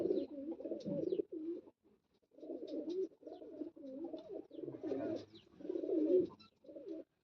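Pigeons coo repeatedly in close, throaty bursts with short pauses between phrases, several birds overlapping and no talking.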